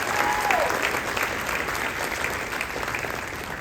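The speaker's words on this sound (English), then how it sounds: "So another round of applause for them." Sustained audience applause for a high school concert band at a spring concert, steady dense clapping filling the hall with a faint crowd murmur underneath.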